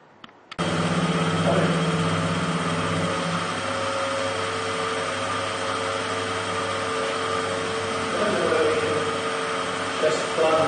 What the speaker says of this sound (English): I started off plunge milling, feeding it gently using the fine feed on the quill